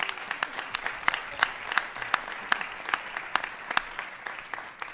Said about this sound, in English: I'm going to ask for a round of applause for that,